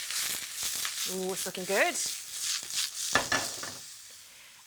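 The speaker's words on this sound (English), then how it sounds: "let's give the mushrooms a toss" Mushrooms are tossed in a hot pan for a stir-fry and sizzle steadily and close, with stirring scrapes throughout. Someone talks briefly over the frying.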